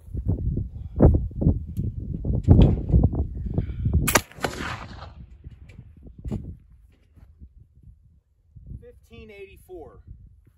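A black powder gun fires a single sharp, loud shot loaded with GOEX 4F (FFFFg) powder outdoors. People talk before the report, and a quieter murmur and rustle follow it.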